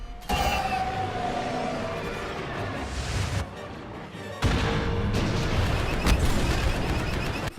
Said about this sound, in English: all of a sudden that massive explosion from the movies happens